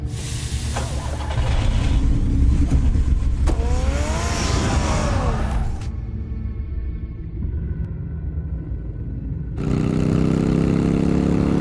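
A car engine rumbles and revs in the Batman Telltale video game, a steady mid-pitched drone that rises in strain at times and briefly drops away before returning loud near the end.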